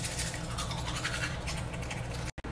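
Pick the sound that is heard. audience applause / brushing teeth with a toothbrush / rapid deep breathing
brushing teeth with a toothbrush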